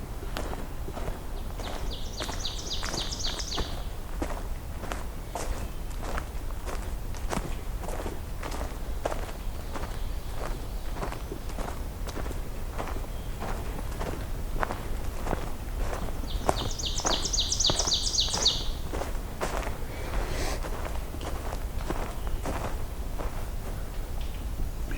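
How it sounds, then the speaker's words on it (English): Two bursts of an ovenbird's rising, repeated chanting song ring out at a distance over constant crunching footsteps on a trail. "Another ovenbird up ahead. The teacher song."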